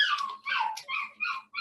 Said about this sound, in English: I'm sorry about the noise in the background, the dogs